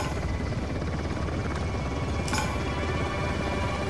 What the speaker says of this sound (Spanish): El helicóptero también nos ve.